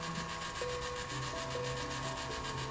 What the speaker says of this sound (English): The first auger cycle.